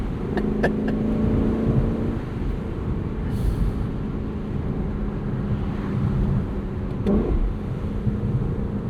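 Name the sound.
Lexus LC 500 V8 engine, top down drive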